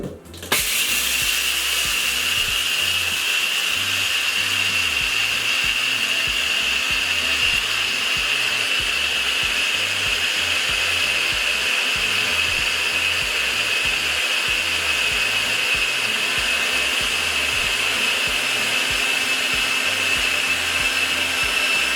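Electric spice grinder with fine blades pulverising lentils into a fine powder, a steady loud high-pitched whirring drone that starts abruptly and runs unbroken, alone without talk.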